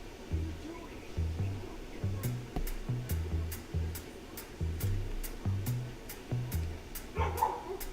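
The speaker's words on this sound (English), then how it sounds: "you hear another dog barking" A dog barks in a steady, repeated rhythm out in a dog run, somewhat distant, with sharp ticking sounds over the barks toward the end.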